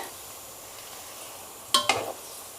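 Chicken pieces frying in peanut oil, a steady close sizzle with two sharp clatters of stirring near the end, no voices.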